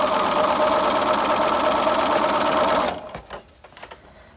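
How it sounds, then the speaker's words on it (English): A sewing machine runs a steady, loud, fast top stitch along the sides of children's apron pockets for about three seconds, then stops, leaving a few soft clicks and handling sounds. "we're just gonna run a little top stitch along the side to hold it in place"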